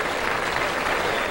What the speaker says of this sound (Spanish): Un aplauso para Mongo Santa María